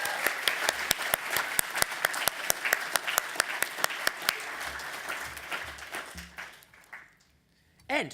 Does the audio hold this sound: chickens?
no